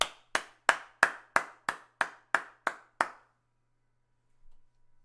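Ten sharp hand claps in a steady, even rhythm, close and loud, stopping abruptly after about three seconds and followed by near silence with a faint soft sound at the end.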